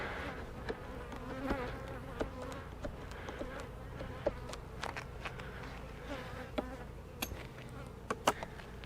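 Honey bees buzz densely around an open beehive during a summer honey check, a continuous close hum with individual bees darting past the microphone in brief louder passes.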